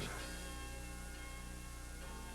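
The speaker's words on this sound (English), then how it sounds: "The bells belong to this 17th century Piaristický church in the town square." Bells of a 17th-century Piarist church on the town square in Trenčín ring in a sustained, blended wash of tones, faint and distant under a steady hum.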